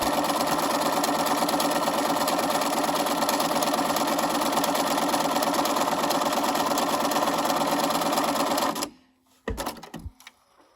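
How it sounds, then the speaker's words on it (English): A sewing machine stitches twill tape in one long, loud, steady run of rapid needle strokes up close, then stops and gives a few short clicks and knocks. "I'm just going to continue to sew down the rest of the twill tape"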